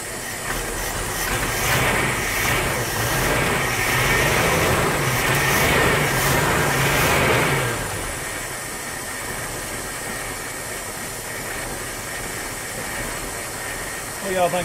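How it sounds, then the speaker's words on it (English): A 1979 Dodge W300 Club Cab truck that sat unused for 13 years idles nearby with a steady mechanical rumble. The engine runs louder and rougher at first, then settles into a quieter, even idle, and people talk faintly. "Y'all think about that, it's sitting there idling."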